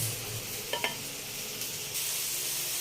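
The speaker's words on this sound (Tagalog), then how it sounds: "Igigisa po natin sa sardinas." Garlic, onion and sardines sautéing in a pan, a steady hiss of sizzling with a couple of quick stirring scrapes partway through, no voices.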